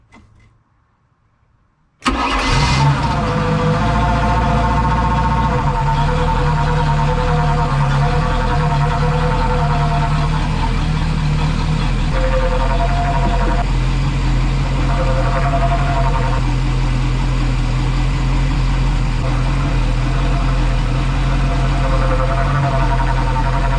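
A 5.7L V8 boat engine cranks and catches after a short silence, then settles into a steady, loud idle that runs through the rest of the clip, with no talking over it.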